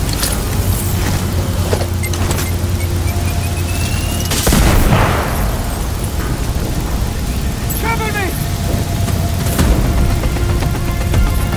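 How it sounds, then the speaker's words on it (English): An explosion in the video game Sniper Ghost Warrior Contracts, a loud booming burst that rises out of dense battlefield noise and radio chatter midway, followed by lingering rumble and debris. "Base, we got an explosion detected."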